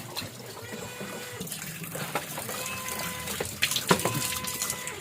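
Water running steadily from a tap while dishes are washed, a continuous close splashing stream with a few clatters near the end.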